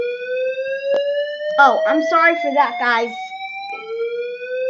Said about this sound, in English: That's just a fire alarm.